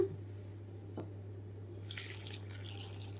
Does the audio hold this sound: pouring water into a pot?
yes